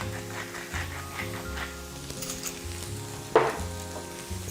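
Spices stirred into oil sizzling in a frying pan: a steady close sizzle through the whole stretch, with a brief sharp clatter of the utensil against the pan near the end and no talking.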